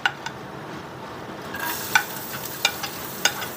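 Olive oil sizzles softly in a hot frying pan while cooking pakbet-style vegetables, a steady faint hiss punctuated by a few sharp, close clicks of a utensil against the pan.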